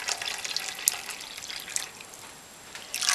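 Dyed yarn lifted from a hot pot lets water drain and drip back, giving quiet, close trickling with scattered small splashes that fade briefly before picking up again.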